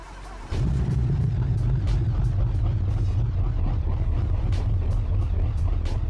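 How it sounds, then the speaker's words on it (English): An 800-horsepower car engine in the BeamNG driving game cranks and catches after about half a second, then settles into a loud, deep, rumbling idle that holds steady to the end. "As you can hear, it just idles so well."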